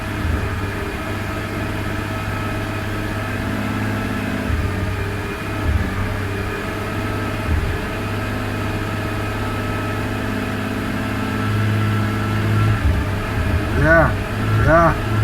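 BMW E46 M3 engine idling with a slight stutter like a misfire, a steady close rumble with uneven dips and pulses, while someone talks over it.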